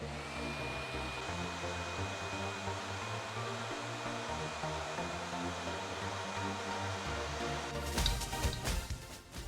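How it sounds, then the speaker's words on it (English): A heat gun or hair dryer blows a steady, close whine of hot air at a price tag to soften the glue, running continuously before a short burst of clattering handling at the end. "we found the easiest way to do this is to just use some hot air to loosen the glue"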